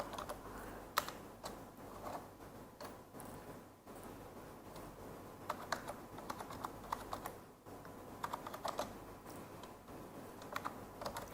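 Keyboard typing as text is entered into a spreadsheet text box, a steady run of close key taps in irregular bursts with brief pauses, no voices.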